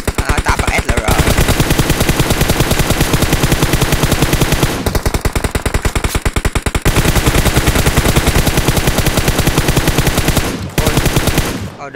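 Automatic rifle fire in PUBG Mobile, a loud continuous stream of rapid shots broken by a few brief pauses, sustained nearly the whole time at close range.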